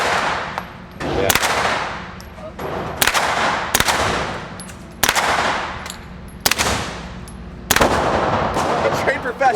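Sniper rifle shots fired outdoors in Texas: about eight loud, sharp cracks at irregular intervals of roughly a second, each followed by a rolling echo, with some talking mixed in.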